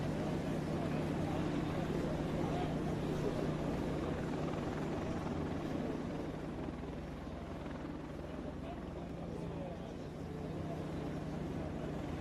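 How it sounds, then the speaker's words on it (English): A KC-46 Pegasus tanker taxiing onto the active runway at the Tinker AFB air show, a steady loud engine drone and hum filling the whole stretch, slightly easing midway, with a crowd and announcer-style talk mixed underneath. "taking the active runway, the modern tanker marvel known as the KC-46 Pegasus"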